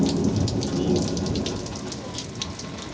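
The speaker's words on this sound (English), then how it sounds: "this is our first thunderstorm of the season" Steady monsoon rain falls during the season's first thunderstorm in southern Arizona, with low rumbling thunder rolling underneath, loud and continuous throughout with no voices.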